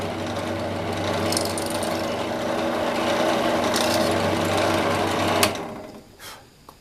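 Small power drill boring a pair of shallow holes into a metal alcohol stove, a loud continuous whirring buzz for several seconds that stops abruptly, leaving a faint shuffle.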